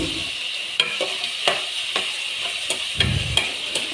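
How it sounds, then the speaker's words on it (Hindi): Cubed potatoes frying in a pan, a loud continuous sizzle close up, broken by scattered scrapes and taps of a spoon stirring them, no voice over it. "तो ये देखिए ये मैं इसे अच्छे से भून रही हूँ"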